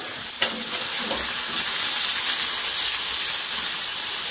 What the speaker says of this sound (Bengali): পেঁয়াজটা খুব সুন্দর করে ভাজতে হবে, একদম লাল লাল করে।